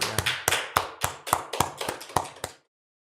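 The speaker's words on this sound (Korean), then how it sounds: "우리 하나님께 영광의 박수 올려드리겠습니다" A church congregation at a New Year's Day service claps in unison: about nine sharp, evenly spaced claps, loud and close, then a sudden stop into silence.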